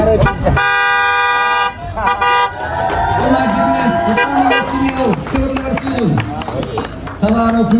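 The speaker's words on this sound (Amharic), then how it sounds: "ክላክሱ እየሰማ ነው።" Horn of a newly gifted car honking in a lively evening crowd, a long steady blast at the start followed by shorter toots amid cheering voices and chatter.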